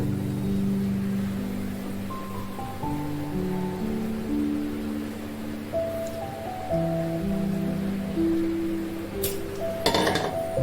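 A lid goes onto a pot of gongura dal in a home kitchen. Steady low humming background runs throughout, then a couple of brief metallic clinks and a clatter land near the end.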